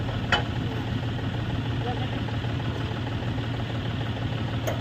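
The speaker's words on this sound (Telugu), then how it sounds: "జాండీ ట్రాక్టర్" A John Deere tractor engine runs at a steady idle nearby, a continuous low mechanical drone with a couple of faint clicks and no voices.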